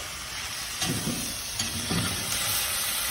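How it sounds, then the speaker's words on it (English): A stir-fry with soy sauce and sesame oil sizzles loudly in a pan on a solar-powered kitchen, with a few scraping stirs breaking through the steady hiss. "Let's give that a stir."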